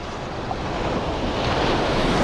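Ocean surf rushes and crashes in a broad, continuous roar with wind buffeting the microphone, swelling slightly louder toward the end.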